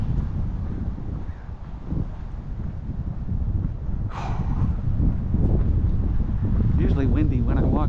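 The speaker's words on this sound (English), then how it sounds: "Wind's picking up a little bit. I'd probably hear it on the camera." Steady, heavy wind buffeting a microphone, producing continuous low rumbling roar throughout, with faint background sounds including a brief bird call.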